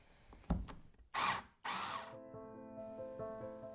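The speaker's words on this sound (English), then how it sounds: "And now I'm just going to tighten each screw." Two short, loud whirring bursts from a power driver tighten screws into a wooden picture frame, preceded by a few light clicks and followed by a quiet tonal hum.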